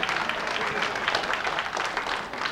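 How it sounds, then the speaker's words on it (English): A brief burst of dense audience applause for an event's media coordinator, with many hands clapping steadily at moderate volume for a couple of seconds. "here's a guy that really deserves a round of applause"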